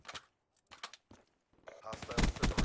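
Shooter game gunfire crackles in short separated bursts, then swells into dense, sustained rapid fire near the end, loud and close.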